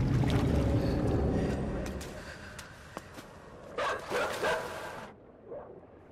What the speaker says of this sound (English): Hopefully these dogs can't swim too well.